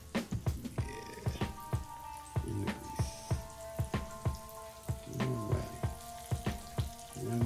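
Chicken pieces, including a leg, frying in hot grease for Southern fried chicken: a steady close crackle broken by repeated sharp pops and spits, with faint background clatter.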